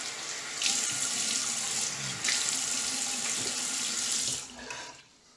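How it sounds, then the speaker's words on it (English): A bathroom tap runs into a sink as the face is wetted before shaving, a close, bright gush broken by brief changes as hands pass through the stream, then shut off at the end. "I'm gonna go ahead and wet the face."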